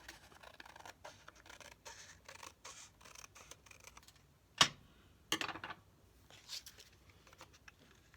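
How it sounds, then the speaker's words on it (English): Fiskars Teflon scissors snip through paper in a quiet craft setting, a series of soft, close crisp cuts and clicks with a couple of sharper louder snips. "I'm gonna have to use scissors."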